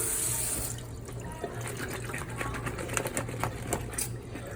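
Tap water pours steadily into a kitchen pot, a continuous close splashing rush with faint clinks over it.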